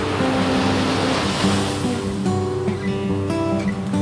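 Ocean waves washing onto a beach under a sunny sky, a steady loud surf rush with some tonal hum layered in, no talking.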